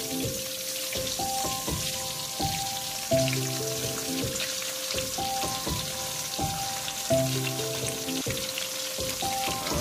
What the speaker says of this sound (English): now we're cooking some fish